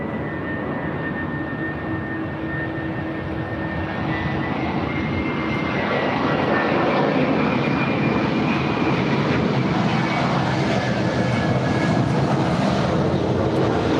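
A passenger airplane landing on runway 24 Right at LAX, heard as a steady, loud broad engine roar that swells slightly and holds for the whole stretch, with no voices.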